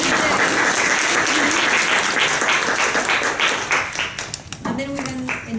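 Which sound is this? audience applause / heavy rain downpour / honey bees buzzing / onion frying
audience applause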